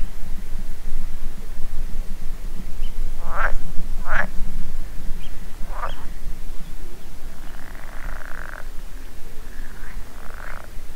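Frogs croak in a loose night chorus under a bright full moon at a campsite, several loud close calls standing out over a steady low hum of distant croaking.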